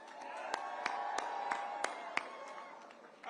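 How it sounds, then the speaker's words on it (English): A crowd at a 2025 New York City mayoral election night watch party for Zohran Mamdani gives faint, distant applause and cheering, with a low crowd murmur and scattered sharp claps standing out. "Give yourselves a round of applause."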